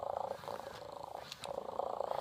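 Hasbro Joy for All robotic toy cat purring steadily up close, a soft rhythmic rumbling purr that pulses in repeated cycles with a brief pause midway.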